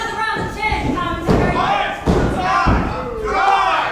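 Heavy thuds as a female wrestler is driven down onto the mat by her hair, several sharp impacts cutting through a commentator talking over crowd noise.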